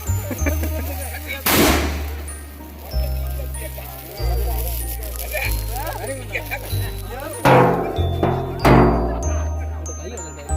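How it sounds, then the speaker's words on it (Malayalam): Firecrackers burst in sharp, loud cracks during a village Christmas carol procession, against a backdrop of festive chenda drumming and a steady low musical drone. "ചെക്കന്മാർ പടക്കം പൊട്ടി കേട്ടോ"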